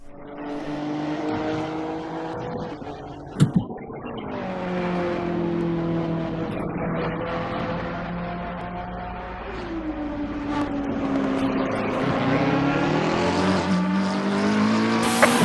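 A race car leaves the pit lane in Assetto Corsa Competizione at Silverstone, its engine droning and rising in pitch as it accelerates through gear changes, loud and close, with a brief sharp knock early on.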